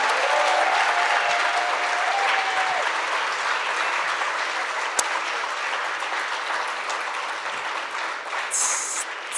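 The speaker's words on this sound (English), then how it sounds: "Can we give her one more round of applause" A conference audience at an opening keynote on the power of parks gives a dense, sustained round of clapping that stays loud throughout and eases off only slightly toward the end.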